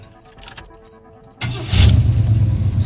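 A 1986 four-door Oldsmobile Cutlass engine turns over and settles into a steady running rumble, preceded by a quieter stretch with faint rattling, close and fairly loud.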